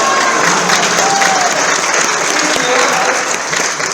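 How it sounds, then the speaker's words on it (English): An audience at a housing conference bursts into loud, sustained applause for a birthday, a thick continuous roar of clapping hands close by, with faint crowd murmur mixed in. "let's give her a big clap"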